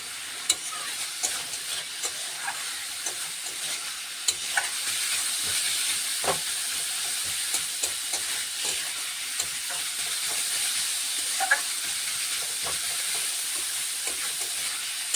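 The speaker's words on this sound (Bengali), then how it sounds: "দেখো একটু হলুদ দিয়ে দিলাম, ভালো মতন করে ভেজে নিতে হবে।" Pointed gourd leaves with turmeric sizzle and crackle steadily in a hot pan, a continuous close frying hiss with occasional stirring scrapes and pops, no voices.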